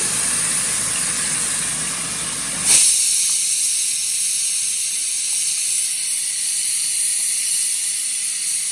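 Ground masala sizzles in melted sugar in a pan over a low flame, a loud, continuous hiss that briefly flares and then thins into a steadier, quieter sizzle.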